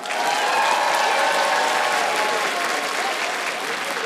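Studio audience applauding at a Ukrainian celebrity roast comedy show, a dense, steady wash of clapping that holds loud and even throughout with no voices on top.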